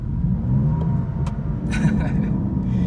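A BMW M4 GTS or Jaguar F-Type SVR sports car sits idling after a push-button start, its exhaust giving off a low, continuous, moderately loud burble with faint, uneven pops.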